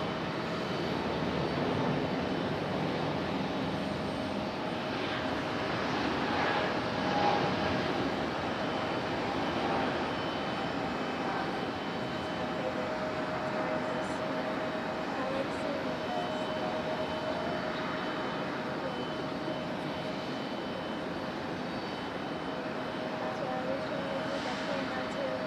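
A JetBlue Airbus A220 jetliner rumbles steadily at a distance, a low engine drone holding through the whole stretch with faint shifts, while a voice talks over it now and then.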